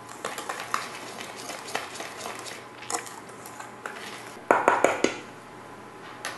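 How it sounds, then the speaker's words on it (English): A whisk stirs flour, baking powder, salt and citrus zest together in a bowl for biscotti, making quick light clicks and scrapes against the bowl, with a denser burst of rapid taps near the end. "We'll whisk these together so that the zest is nicely incorporated with the dry ingredients."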